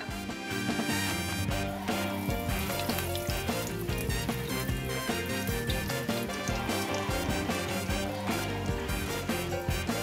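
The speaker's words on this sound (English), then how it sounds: "And now we slide this into the oil, which is at 350 degrees." Pecan pie frying in 350-degree oil, a dense, steady sizzle and bubbling crackle that stays loud and continuous throughout, with no talking.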